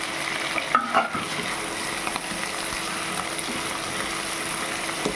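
Beef skin and potato pieces frying together in a pan, a steady close sizzle with a few brief clatters of stirring near the start, no talking.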